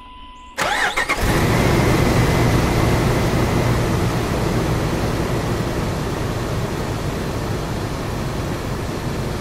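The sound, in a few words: Jeep TJ or LJ engine cranking and running after fuel rail work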